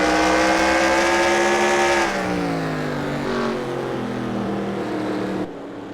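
Race car number 88 braking hard into a turn at Martinsville Speedway, a loud close engine note dropping in pitch as it slows, then easing off before a sudden cutoff.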